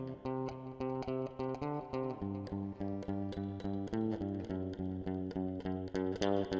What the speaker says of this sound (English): when I get the bass guitar in a second, it's going to sound like this.